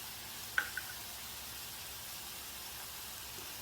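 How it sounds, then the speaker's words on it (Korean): Doubanjiang stir-frying in a Tupperware master cooker gives a faint, steady sizzling hiss, with one sharp utensil tap near the start and a lighter tick just after, and no talking. "넣고 이제 볶아줍니다."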